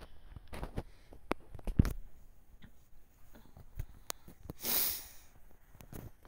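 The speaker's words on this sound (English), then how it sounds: "sorry for all the sniffling." Someone with allergies sniffles repeatedly, giving short, close, sharp nasal snorts scattered irregularly over quiet room noise, with one longer breathy hiss near the end.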